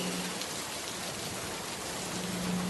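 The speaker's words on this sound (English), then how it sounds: "rain disrupted the scene." A steady wash of rain falls in an audio drama scene, even and unbroken throughout, with no voices over it.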